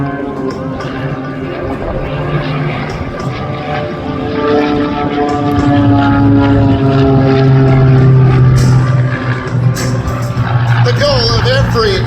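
A Pitts S-2B aerobatic biplane performs at an air show, its propeller engine droning loudly as the pitch climbs and swells while it pulls straight up. Someone narrates over the sound.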